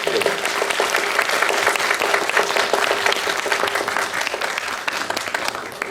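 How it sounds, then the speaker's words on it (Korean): At a Busan International Film Festival screening Q&A, a theatre audience claps for the film's actors standing in the seats, a lively, crisp patter of many hands lasting several seconds with a faint voice beneath. "예, 박수 한번 부탁드립니다."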